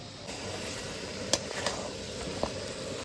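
Mutton curry with garam masala is sautéed and stirred in a pan, a steady low sizzle with a few sharp scraping clinks of the spoon.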